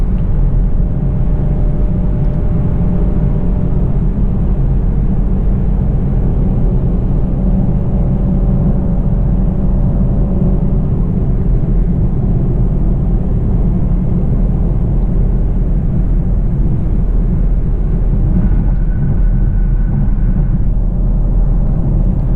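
Cabin rumble of a Camaro V6 1LE cruising in fourth gear at night, a low steady engine and road drone that holds evenly throughout with no voices.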